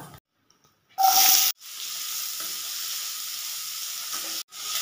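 Cut potatoes hit hot oil with cumin, bursting into a loud sizzle that then settles into a steady, fainter frying hiss before briefly cutting off near the end.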